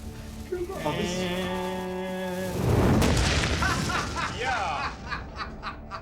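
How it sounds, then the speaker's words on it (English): A barrel packed with fuel goes off in a big, loud boom after a burning fuel trail reaches it. A low rumbling blast swells and dies away while people laugh and cheer close by. "That was the best explosion we've ever done."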